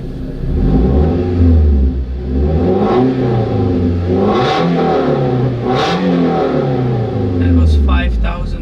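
Scion tC with a muffler delete revving hard as heard from inside the cabin, a loud droning engine note that climbs and falls through repeated rev sweeps with no gaps, ending in a few light clicks.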